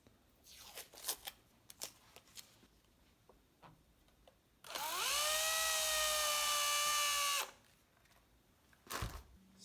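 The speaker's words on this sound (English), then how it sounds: "I'm just going to chamfer that hole with a slightly larger drill bit." A handheld power drill with a slightly larger bit chamfers a pilot hole during assembly of an ST-style guitar kit, giving one steady whirring burst of about three seconds, flanked by faint clicks and handling taps.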